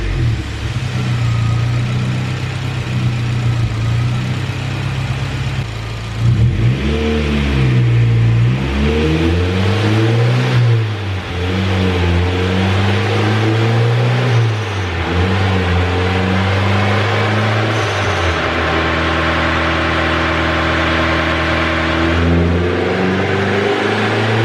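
A turbocharged Honda B18 engine running on 87-octane fuel on a dyno, loud and close, idling and then rising and falling through repeated revs with a droning, shifting pitch and no talk.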